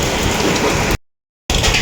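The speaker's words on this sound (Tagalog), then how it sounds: "grabe po lakas po ng ulan dito" Heavy rain pours down during a typhoon, a loud dense steady roar of rainfall close by, cut off by a short gap of silence partway through.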